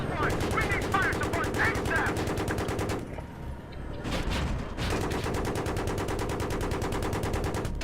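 Sustained rapid automatic gunfire from the Battlefield 3 video game, dense and loud, breaking off briefly near the middle before resuming, layered with scattered shots and background battle noise.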